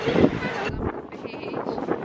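Wind buffets the microphone at a park by the beach in a loud rumbling gust that drops off abruptly, followed by a lighter breezy hiss.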